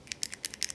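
A Zebra F-701 pen clicks several times in quick succession, sharp, light, faint clicks in an uneven rhythm.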